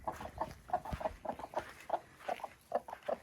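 Broody hens cluck in a steady, repeated series of short, soft calls close by, with no talking over them.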